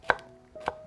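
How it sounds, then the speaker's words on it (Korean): A knife julienning peeled zucchini on a cutting board: two crisp, close strokes about half a second apart, each a sharp tap against the board. "채 썰어줍니다."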